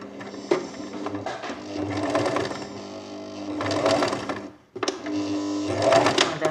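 A sewing machine stitching fabric, running in fast rhythmic bursts with a brief stop partway before the whirring resumes, close and clear.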